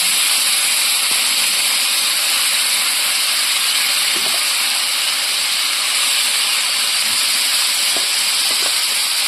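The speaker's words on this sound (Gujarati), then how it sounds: "હું આ રીતે પેલા પનીરને મૂકી દઉં રાખો આ રીતે તેલમાં ઉમેરી દઈશું અને એને તેલ ફ્રાય કરી લઈશું" Paneer fries in hot oil in a kadai, a constant, loud, even hiss that never lets up, with only faint clicks beneath it.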